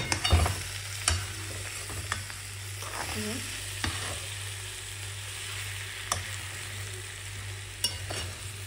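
Soybean curry sautéing in a kadai and sticking to the bottom, a constant sizzle under a low hum, with intermittent spatula scrapes and a few taps against the pan, close by with no speech.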